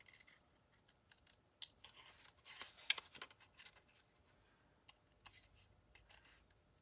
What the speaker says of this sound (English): when you're fussy cutting, I stay outside of the black line just a little bit.